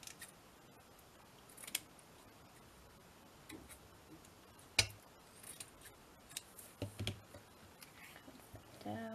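Sharp, sporadic snips from scissors cutting fabric snippets for a craft roll, close and quiet, with several separate clicks and cuts spread unevenly against a near-silent background.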